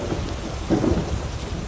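Video game rain pours steadily while a low thunder rumble swells briefly in the middle, a full stormy wash with no voices.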